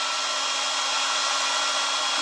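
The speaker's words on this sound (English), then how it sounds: "Let me dry it just so that I don't get this all over my computer." A hair dryer blows over freshly applied Paint Pixie chalk paint, a constant close whooshing drone that runs evenly through the whole stretch with no pauses.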